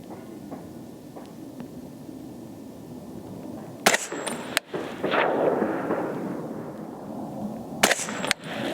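PSA M110-A1 .308 rifle firing outdoors, sharp cracking reports spaced a few seconds apart with short echoes, over a quiet background.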